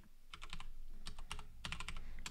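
Rapid keystrokes on a computer keyboard, a quick burst of clicks, a pause, then another run of typing, close and fairly loud with no talking.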